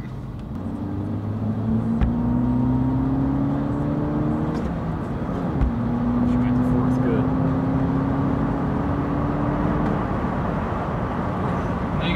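A Mk6 Volkswagen GTI cruises at about 80 mph, its engine and road noise forming a steady loud drone, with a rising engine tone shifting partway through.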